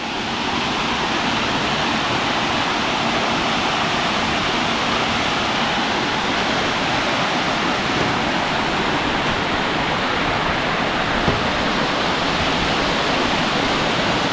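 A steady, powerful roar of falling water from Biryong Falls in Seoraksan, South Korea, dense and continuous throughout, close by with no voices.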